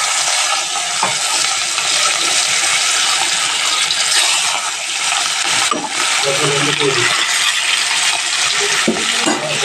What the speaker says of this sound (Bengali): মাছগুলো গরম তেলের ওপরে দিয়ে দিলাম, খুব কড়া করে ভেজে নেব।